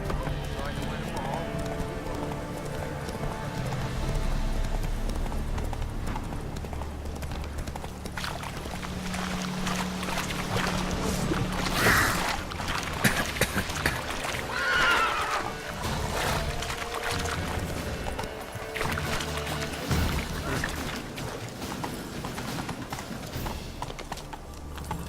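A horse gallops and neighs in The Witcher 3, with steady rhythmic hoofbeats and occasional whinnies over ambient game sound, and someone talks throughout.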